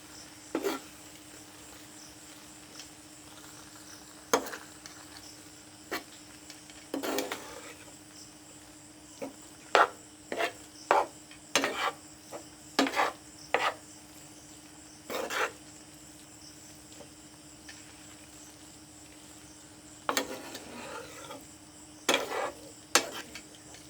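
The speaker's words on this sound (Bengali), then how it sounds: "এবার নেড়ে মিশিয়ে দিব।" Mango sandesh mixture stirred in a pan, a spatula scraping and tapping the metal in scattered short strokes over a steady faint background hum.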